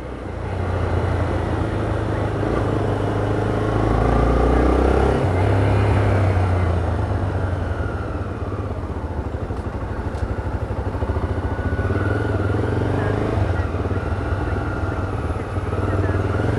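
Steady, dense car and motorcycle traffic rumble with low engine drone throughout, heard from a motorcycle within the flow of vehicles on a viaduct in Natal, Brazil, constant and fairly loud.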